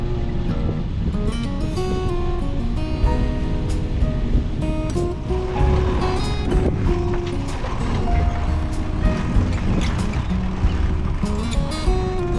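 A catamaran sails across the ocean off the Southern California coast toward Catalina Island, with a steady, full wash of water and wind rushing continuously past and a faint tonal hum running underneath.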